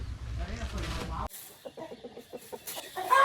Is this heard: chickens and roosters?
yes